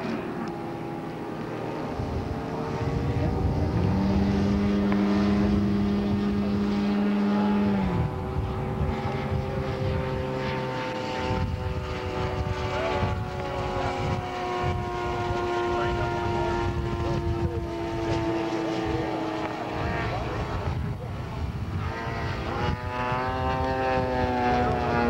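A model P-51 Mustang aircraft engine droning steadily as it circles past, a continuous propeller hum with a rising and falling pitch, a commentator talking over it.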